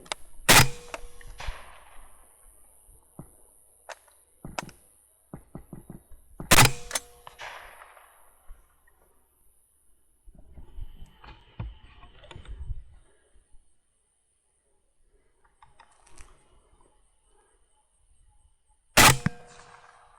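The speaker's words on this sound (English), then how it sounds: "Smoked them with the AK." Three sharp, loud rifle shots from an AK chambered in 5.56 crack at widely spaced intervals, the first two followed by brief mechanical clatter and the last standing alone near the end.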